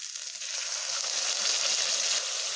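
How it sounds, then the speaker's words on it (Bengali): Water goes into a pan of okra curry and sizzles loudly as a steady, hissing fry that holds close and continuous with no talking. "আমি আরেকটু জল অ্যাড করে দিলাম।"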